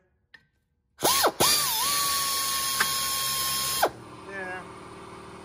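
A power tool whines steadily at close range for about three seconds while bolts are run in to push off a Subaru rear brake rotor, starting and stopping sharply, with faint sounds after.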